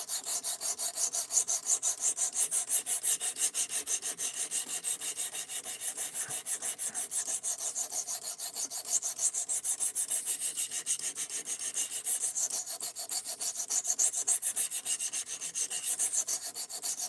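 Steady, repeated rasping strokes of a knife being sharpened at 17.5 degrees on a Work Sharp Precision Adjust Professional sharpener, even and continuous throughout with no talking.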